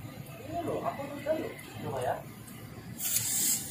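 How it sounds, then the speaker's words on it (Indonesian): A spray hisses onto the centre of a racing clutch on a Kawasaki W175 motorcycle, with a short sharp burst near the end under close conversational voices. "Kita semprot bagian tengah kopling ya."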